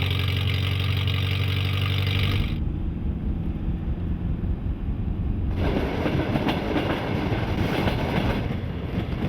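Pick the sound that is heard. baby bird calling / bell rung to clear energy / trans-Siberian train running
trans-Siberian train running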